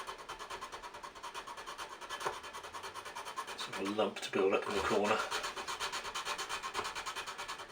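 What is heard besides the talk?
sanding stick rubbing wood in V joint corner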